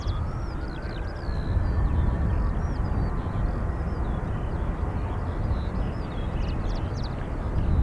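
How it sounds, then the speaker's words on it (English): A Ryanair airliner departing Dublin Airport: a steady, loud broadband jet roar fills the whole stretch, with a slowly rising engine whine and birds chirping faintly above it. "Ryanair off to Amsterdam"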